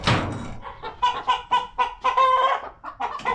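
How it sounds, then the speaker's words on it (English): A chicken stuck in a pigeon coop clucks in a run of short, nasal, close calls with brief gaps, fairly loud and with no voices. "Have you seen the chicken is stuck there?"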